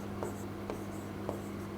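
Writing on a board during a Hindi-language reasoning lesson: a few short, spaced scratchy strokes over a steady low room hum, fairly close and quiet.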